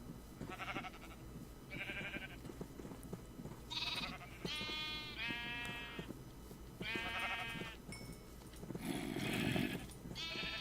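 Sheep in the Minecraft video game bleating repeatedly, about seven or eight separate calls spread across the span, some overlapping, fairly clear and close with no talking.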